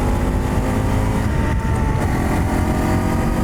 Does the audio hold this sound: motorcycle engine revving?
yes